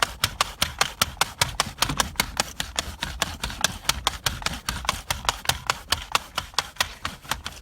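Pet hair removal tool scraped quickly over upholstery, making a fast, even run of dry rasping strokes, close and steady throughout.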